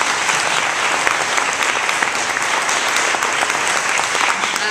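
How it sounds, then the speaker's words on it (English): Loud, sustained applause from a conference audience at a keynote, dense clapping filling the room at an even level from start to finish, with no speech over it. "I want to give a round of applause to Nolani"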